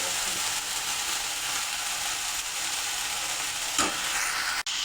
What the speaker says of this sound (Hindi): देखो साग भजा होगा